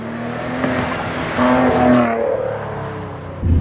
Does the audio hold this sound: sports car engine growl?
yes